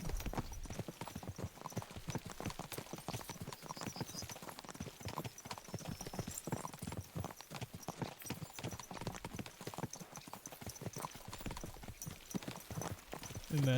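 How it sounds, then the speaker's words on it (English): Horse hooves clip-clopping at a walk in Kingdom Come Deliverance 2, a steady, even rhythm of soft hoofbeats that continues throughout at a low level. "immersive clip-clop simulator."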